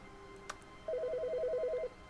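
A telephone rings in The Stanley Parable: Ultra Deluxe, a single steady electronic trill lasting about a second after a short click, clear and alone with no talking.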